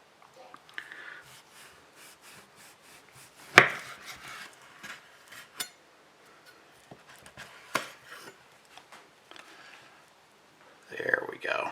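A dull knife saws through a slab of nitrate-free dry-cured bacon in soft, scattered scrapes and one sharp thump, faint and close, with quiet background movement.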